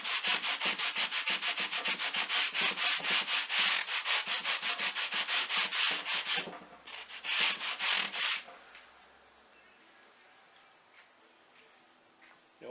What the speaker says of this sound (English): we'll sand down the road. I've just got this sanding block.